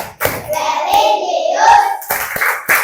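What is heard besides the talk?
children clapping the PPK clap chant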